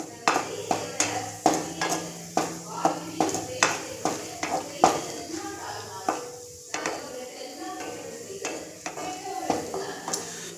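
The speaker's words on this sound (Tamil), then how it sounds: "நெய்யில் அதை வறுத்து எடுக்கலாம்." Ghee frying for wedding-style halwa, the pan stirred steadily so a spoon scrapes and clinks against metal in an even rhythm over a soft, continuous sizzle, close and moderately loud.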